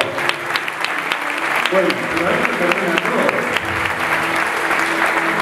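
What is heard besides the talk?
church congregation applauding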